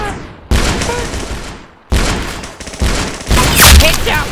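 Gunfire in a shooting video game, loud bursts of shots that cut in and out in abrupt bright blasts, with a louder crack near the end.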